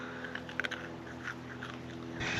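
A dog bites into freeze-dried candy corn, giving a few faint, brief crunches and chewing clicks close by, with a quiet background hum and no talk.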